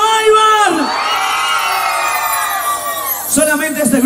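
Crowd at a live concert shouting and cheering, a loud sustained mass of voices that swells, holds, then dips before a fresh burst of yelling rises near the end.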